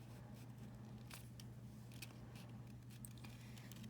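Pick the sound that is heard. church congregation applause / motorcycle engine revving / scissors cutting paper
scissors cutting paper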